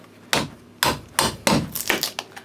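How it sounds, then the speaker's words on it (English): A claw hammer striking wood while prying open the shipping crate of a 44-inch sublimation roll heat press, five loud, evenly spaced blows up close. "I got a claw and a hammer, and I'm just gonna start taking everything off."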